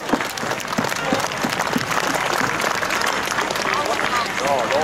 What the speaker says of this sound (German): das ist ein riesen Applaus wert